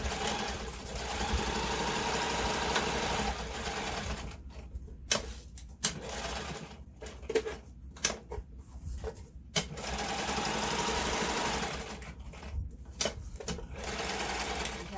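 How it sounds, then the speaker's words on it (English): A sewing machine top-stitches fabric for a homemade yarn holder, running in close, steady bursts separated by short pauses and light handling sounds. "I'm just going to top stitch it down on top of, you know, one side on the outside"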